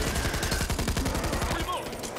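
Rapid gunfire from a weapon in the video game Back 4 Blood, a loud burst of quick repeated shots lasting about two seconds.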